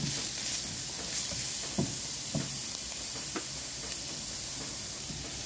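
Garlic and other ingredients for ginisang kalabasa sauté in a pan, a continuous sizzle and hiss broken by several soft stirring scrapes and knocks, close by and without speech.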